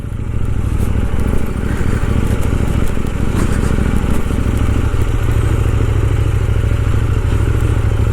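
A KTM Duke 790 motorcycle with badly worn tyres rides off-road, its engine a steady, close, loud drone with clattering over rough ground for about eight seconds.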